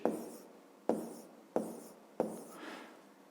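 Pen or marker writing numbers by hand on a surface during a math exercise: four short scratchy strokes at a steady rhythm, close and quiet.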